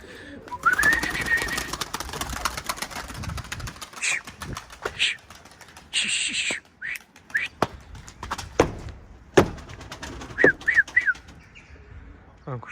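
Pigeons out in strong wind give scattered chirps and calls among sharp clatters and wing flaps, over a rough, gusty background.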